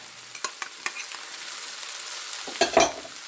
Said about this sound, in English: And you're going to stir it until everything blends together.